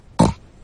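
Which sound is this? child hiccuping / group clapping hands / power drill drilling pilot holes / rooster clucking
child hiccuping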